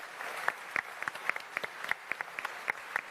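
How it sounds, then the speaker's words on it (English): Scattered, fairly faint handclaps from an expo audience, individual claps distinct and uneven rather than a dense roar, continuing for a few seconds. "So please, round of applause"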